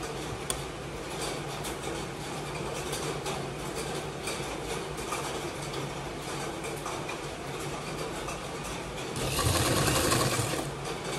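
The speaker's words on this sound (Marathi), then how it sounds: "अर्धा इंचाचं अंतर ठेवून शिलाई मारायची आहे." Sewing machine stitching the fabric of a girl's long gown or frock: a steady rapid mechanical whir and clatter running for over ten seconds at close range, with a brief speed-up near the end and no talking.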